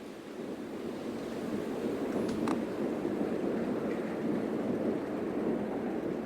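A water feature fountain outside Flagstaff Station in Melbourne splashes in a steady, dense rush of falling water, with faint city traffic and a brief metallic clink in the background.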